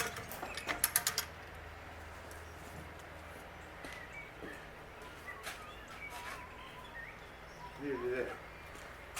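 A mechanism on a sailboat's bulwarks is cranked, giving a quick run of ratcheting clicks near the start and scattered creaks and clunks afterward, with people talking faintly in the background.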